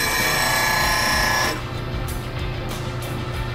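Boxmaster negative rake detail tool rocked back and forth against a sharpening surface, a loud, continuous abrasive grinding that thins out after a second and a half into a steadier, rougher scraping hiss.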